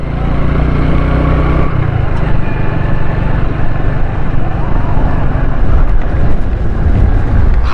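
Strong wind buffeting a microphone beside a busy expressway under construction, a loud continuous rumble with gusty low roar and traffic-like drone throughout, no speech.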